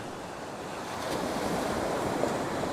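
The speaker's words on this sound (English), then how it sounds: "So just waiting for the wave to come in" Ocean waves wash in on Dundowran Beach as a steady broadband surf roar that swells slightly as a wave arrives, with some wind noise and no voices.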